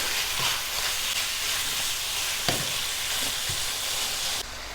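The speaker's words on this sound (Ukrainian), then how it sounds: "Ще раз вимішуємо і протушуємо наш фаршик." Minced meat stews and sizzles in a pan for a lasagne's meat sauce, a steady broad hiss with a few soft spoon knocks as it is stirred, fairly close and without voices.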